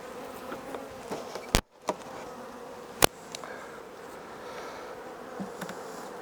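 Honey bees hum and buzz steadily around a hive feeder, a close, continuous insect drone punctuated by a few sharp clicks and knocks.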